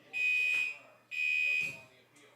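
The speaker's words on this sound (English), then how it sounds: "The alarm's going off everywhere." A fire alarm sounds at a baseball ballpark during a minor-league game, two long shrill electronic tones about a second apart with a brief voice between them.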